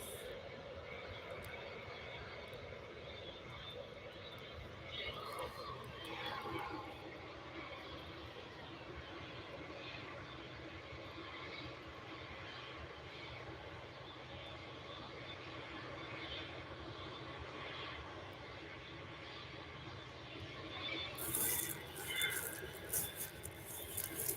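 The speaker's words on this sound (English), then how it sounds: "And the Qatar Dreamliner is getting themselves ready to head off." A Qatar Airways Dreamliner at Manchester airport gives a steady, distant jet engine rumble and whine under outdoor airport ambience, building slightly toward the end.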